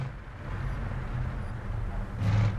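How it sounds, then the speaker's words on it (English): Truck engine revving and accelerating in the racing video game Japanese Drift Master, from an American classics add-on; a low, steady rumble that swells louder near the end. "And this truck does get up and go too. You gun it, it's definitely gonna go."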